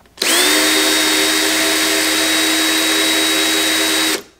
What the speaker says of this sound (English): let's do one more test with the drill